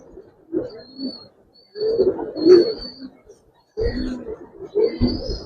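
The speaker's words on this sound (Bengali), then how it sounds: "এই যে ভাই মাদি কবুতরটা ভাই" A female Giribaz pigeon coos nearby in deep, rolling bursts, three or four calls with gaps between them, clear and fairly loud with no talk over them.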